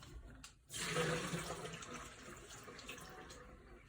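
A tap gushes over dried beans being rinsed in a sink. After a short quiet start the flow turns on suddenly and runs steady and close, splashing for a few seconds.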